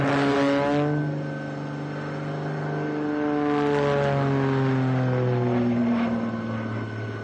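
Propeller stunt airplane engine performing a torque roll at an outdoor air and space show, a loud sustained droning roar with steady harmonic tones that shift in pitch as the aircraft hangs and turns, continuous throughout.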